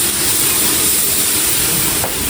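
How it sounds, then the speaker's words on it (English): Loud, steady hiss of steam rising as water is poured onto a hot flat-top griddle from Aldi while fish is cooked, a continuous broadband rush lasting the whole moment with no talking. "Let the steam go. Put plenty of it on there."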